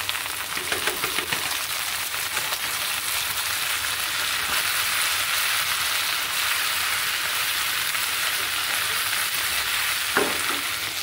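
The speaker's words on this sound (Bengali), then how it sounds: "তো এখন আমি এই যে পাট শাকটা ঢেলে দিব।" Jute leaves poured into a hot pan with green chilies and black pepper and stir-fried, giving a loud continuous sizzle with scraping and stirring sounds and a sharp clatter near the end.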